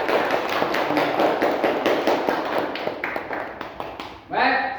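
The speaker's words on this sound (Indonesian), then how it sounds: "Mari kita berikan tepuk tangan." Classroom applause after a group presentation: a dense run of many hands clapping fills most of the clip at moderate loudness, fading toward the end before a voice starts speaking.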